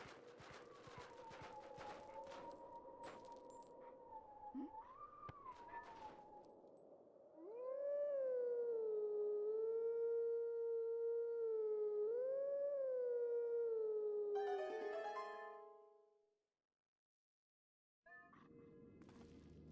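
Wolf howling at the Howling Stone in Twilight Princess: a long, clear, melodic howl with rising and falling pitch, loud and alone after a softer tune, ending in a brief silence before the music resumes.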